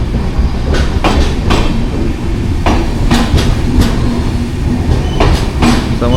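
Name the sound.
passenger train running, heard from on board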